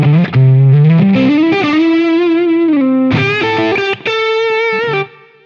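Electric guitar driven through an Xotic Soul Driven overdrive with its mid boost turned fully down, playing loud sustained distorted notes and a rising melodic line, alone with a brief gap near the end.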